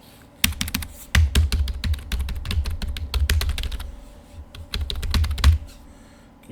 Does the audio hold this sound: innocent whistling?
no